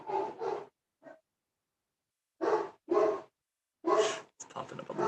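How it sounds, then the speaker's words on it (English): Several short, sharp dog barks come in small bursts separated by silent gaps, fairly close and clear. "You can hear my dog barking."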